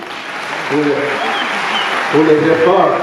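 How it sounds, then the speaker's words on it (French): Applause from an audience at a World Red Cross and Red Crescent Day ceremony, a steady wash of clapping running under someone speaking over it. "Je pensais que je pouvais encore applaudir"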